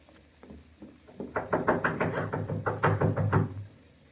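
Knocking on a back door as a radio drama sound effect: a few faint taps, then a long run of loud, quick raps in irregular bursts, close up with no voices.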